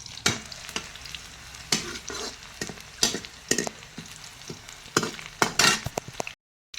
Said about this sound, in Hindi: हमारा तेल हो गया था तो मैंने प्याज लहसुन हरा मिर्च डाल दिया है, तब इसको पकने देना है काफ़ी देर तक